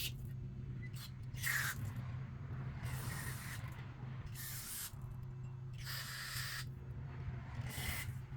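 Short bursts of aerosol carburetor cleaner hiss repeatedly into the orifices of a Honda GX160 engine carburetor, several sprays of a second or so each, over a steady low mechanical hum.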